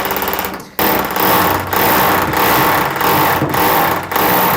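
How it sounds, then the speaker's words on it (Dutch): A power drill whirs loudly in repeated bursts while drilling at an angle for a built-in toilet installation, its motor pulsing with short dips between pushes, close by and without voices. "Boor een beetje schuin, zodat het makkelijker is voor je om aan te draaien."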